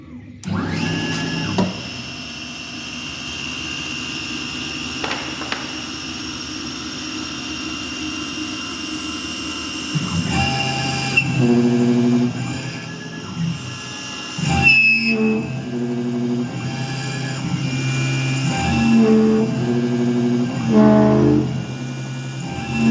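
A Langmuir MR-1 CNC mill cuts a steel part, a steady whining hum that grows harsher and more rattling partway through as the cutter engages, with shifting tones between passes.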